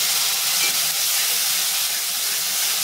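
Ground masala paste hits hot oil in a pot while egg biryani is being cooked, giving a strong, steady, close sizzle with no talking.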